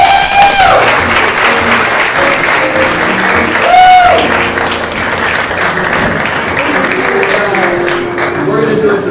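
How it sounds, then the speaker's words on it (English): Loud applause from an improv theater audience with clapping and cheers, mixed with music and a voice or two over the crowd noise. "Give a big round of applause."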